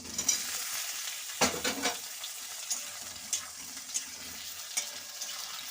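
Potatoes drop into a pan of fried onions and cardamom for Bengali-style alu dom, bringing a sharp burst of sizzling and then quieter frying with a few soft stirring scrapes.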